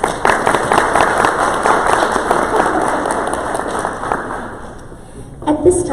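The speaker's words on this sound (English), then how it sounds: "Let's take a moment to give them a round of applause" Sustained applause from a crowd at a high school honors breakfast, dense and steady clapping for parents and families that fades toward the end as a voice begins speaking.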